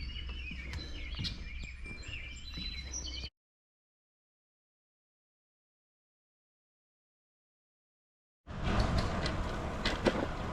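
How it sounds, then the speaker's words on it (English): Birds chirp busily for a few seconds, then the sound cuts to silence before returning as louder, noisier outdoor ambience. "I don't know if you can hear the birds."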